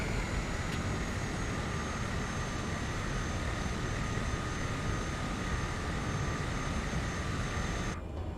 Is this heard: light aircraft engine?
yes